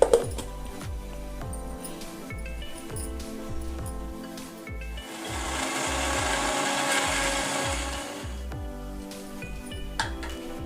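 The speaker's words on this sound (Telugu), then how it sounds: "వీటిని మిక్సీ పట్టుకొని పౌడర్ చేసుకోవాలి." A mixer grinder powders chopped Bourbon biscuits, its motor whirring in repeated short pulsed bursts with rattling contents, swelling into a longer continuous grind midway.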